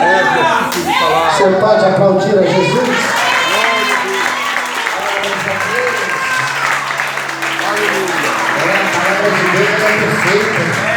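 A church congregation at a vigil claps and cheers, a busy mix of hands clapping and raised voices with a singing or shouting voice riding over the crowd noise throughout.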